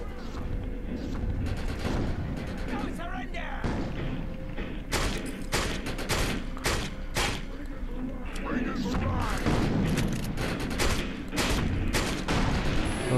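Dense gunfire in the shooter video game Defiance: continuous rapid volleys of shots and heavy thuds, loud and steady throughout, with a player talking over the action.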